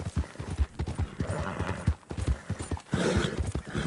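Horse hooves clip-clop steadily at a walking pace in Red Dead Redemption 2, close and rhythmic, with a brief whinny and a low rumble of movement underneath throughout.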